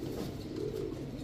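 A red Bombay pigeon, a male, coos faintly in a low, wavering murmur under steady background noise, one short continuous call.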